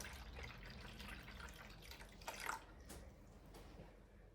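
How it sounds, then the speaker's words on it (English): Water is poured to top up a sous vide container, making a soft running trickle with splashes and drips, faint and close, with no talking. "I haven't got enough water in there, so I need to just top this up quickly."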